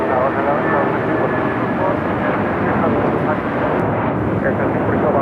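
An airliner takes off from runway 25 right at LAX, a loud, continuous, broadband engine roar that holds steady and close throughout, with radio voices faintly mixed in.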